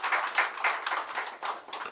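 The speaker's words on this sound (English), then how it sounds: "Let's have a huge round of applause" Audience clapping at a hospital's robot-assisted surgery program launch event, a short burst of applause from a modest crowd, fairly soft and steady with no talk over it.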